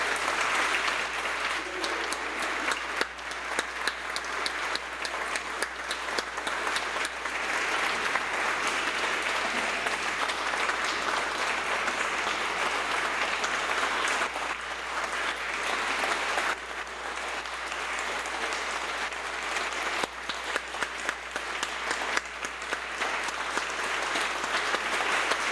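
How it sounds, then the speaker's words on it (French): Prolonged audience applause for an honoree at a gathering, many hands clapping steadily and densely for over twenty seconds, with slight swells and dips in intensity but no break and no talking. "je vous invite à l'applaudir."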